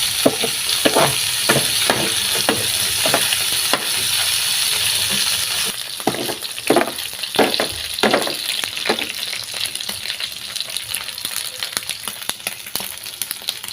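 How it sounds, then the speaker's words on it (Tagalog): Pork stir-fries in a pan with zucchini and carrots, a loud continuous sizzle broken by repeated sharp scrapes and clacks of a utensil stirring, closely miked with no talking. "Gigisa na natin yan guys."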